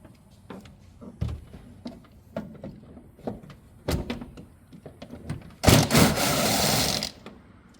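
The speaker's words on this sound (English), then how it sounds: "Got all my bolts loose." Bolts being loosened on the radiator fan shroud of an old Chevy truck, heard as scattered close metallic clicks and thunks from a ratchet, then a loud burst of harsher rattling toward the end, with no talking.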